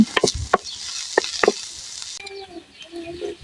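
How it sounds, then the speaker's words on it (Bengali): Sliced onions and dried red chillies fry in a pan, a close, steady sizzle broken by a few sharp scraping clacks of a spoon stirring in the first half, then a softer hiss with quieter scrapes. "ভেজে নেবে শুকনো মরিচগুলি দিয়ে পেঁয়াজ হালকা ব্রাউন কালার করবো"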